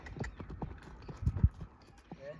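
A horse in a training session clip-clops with irregular hoof beats at moderate distance. The thuds are heavier in the middle stretch, and a faint voice is heard beneath them.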